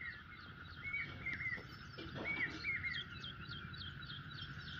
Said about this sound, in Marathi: पक्षी वराटतोय मस्तपैकी